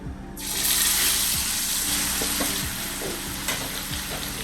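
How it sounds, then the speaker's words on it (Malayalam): Thick fish pieces fry in hot oil with a steady, loud broadband sizzle that swells as they go in, a few stirring clinks and pops scattered through, with no talking. "നമ്മുടെ എണ്ണ ചൂടായി വന്നിട്ടുണ്ട്. അപ്പം നമുക്ക് ഈ മീൻ പതിയെ അങ്ങോട്ട് ഇട്ട് കൊടുക്കാം."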